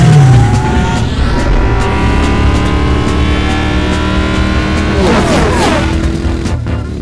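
A car races at speed in a video game, its loud engine tone climbing steadily through the gears, with a tire squeal and skid near the end.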